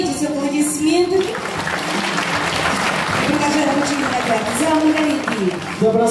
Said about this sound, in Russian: Андрей Владимирович, насладитесь аплодисментами.